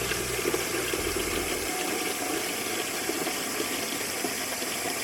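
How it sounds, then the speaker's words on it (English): Water rushing through a solenoid valve during a test flush, filling the system with a steady, broadband hiss and a low hum that stops early, continuous throughout. "Perform a test flush to ensure that the solenoid valve is operating correctly."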